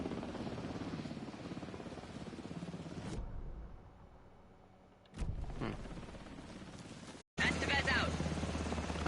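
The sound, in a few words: helicopter flying in video game Alan Wake 2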